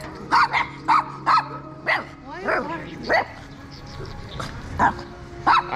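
A puppy barks and yips in repeated short, high bursts, close by, with a few whimpering cries in between and light background noise.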